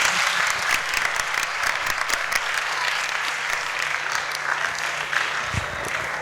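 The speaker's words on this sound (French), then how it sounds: "On peut applaudir pour elle." Students at a school event in Kinshasa applaud steadily, a dense continuous clapping that stays loud and even throughout, with a faint voice briefly audible underneath.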